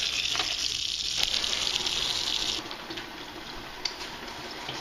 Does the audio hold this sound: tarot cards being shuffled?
no